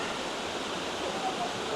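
A waterfall pours in a steady, dense rushing roar heard from nearby, constant and unbroken throughout.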